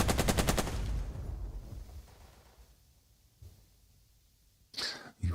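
Gunfire in the turn-based war game Burden of Command: a rapid burst of automatic shots opens loud and close, fading into quiet, then a sharp single crack with a brief whizz near the end.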